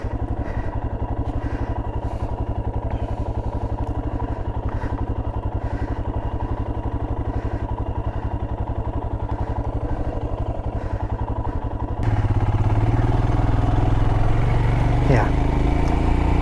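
Off-road motorcycle idling steadily and close by on a North Georgia backcountry trail, its engine note rising louder near the end, with little else over it.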